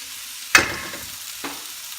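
Soy sauce poured into sizzling pancit bihon noodles in a pan gives a sudden splashy hiss that fades quickly, followed by a second, smaller splash, with no talking.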